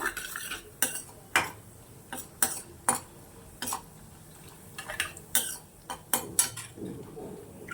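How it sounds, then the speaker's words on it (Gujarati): Cashews fry in oil in a pan while being stirred, giving a run of close, irregular scrapes and metallic clinks from the utensil against the pan. "અને હવે એ જ તેલમાં આપણે કાજુ છે એને પણ ફ્રાય કરી લઈશું"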